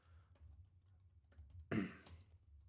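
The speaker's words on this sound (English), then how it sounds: "Sorry, I'm typing." Faint keyboard typing during a home livestream: soft scattered key clicks with one louder cluster of strikes partway through, quiet and close, no talking.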